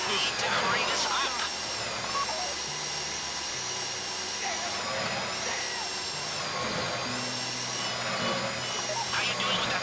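A drill grinds steadily during a bank heist in a crime video game, a continuous loud mechanical whine and rumble under tense background music and effects, with shifting tones but no pauses.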